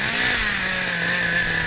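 A Kyosho nitro RC car engine screams at full throttle, a loud, steady, high-pitched buzzing rev held close to the listener without a break.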